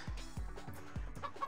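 A voice imitates a chicken's clucking in five quick, close, low clucks in a regular rhythm, playful and fairly clear over a faint background.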